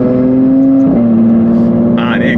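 A very loud car, a tuned machine driven at Wörthersee, holds a high steady rev that drops sharply in a fast downshift, then keeps droning. A whirring whine joins near the end.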